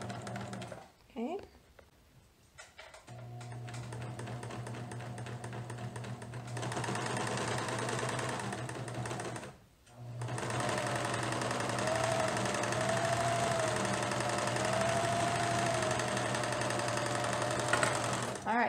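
A sewing machine stitches around a garment hem, its rapid mechanical hum running in steady bursts with brief pauses and a short gap midway, close and fairly quiet.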